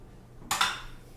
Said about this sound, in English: we're going to crack this egg